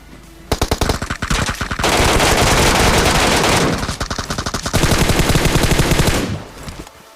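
Automatic gunfire from an MK rifle in the shooter game PUBG, loud and close, with long rapid bursts of shots separated by brief pauses.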